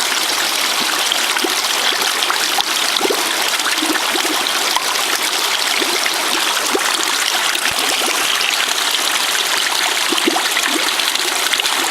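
Water runs through the intake line of a ram pump with a steady trickling and gurgling rush, broken by small splashes and irregular bubbly pops of trapped air, close and continuous with no voices.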